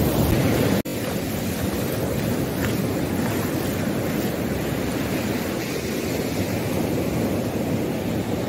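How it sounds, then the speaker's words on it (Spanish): Strong ocean surf roars continuously on the beach at Tonsupa, Ecuador, a loud, broad wash of breaking waves mixed with wind buffeting the microphone. "Aquí están las olas fuertes."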